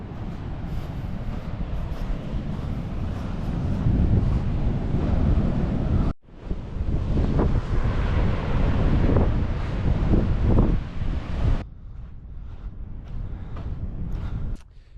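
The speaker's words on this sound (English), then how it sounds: "The weather's been quite settled recently, and the sea is still so rough here." Rough surf pounds a beach on New Zealand's West Coast near Karamea and Kohaihai under a steady roar of wind buffeting the microphone. The wash is loud and continuous, broken by abrupt cuts.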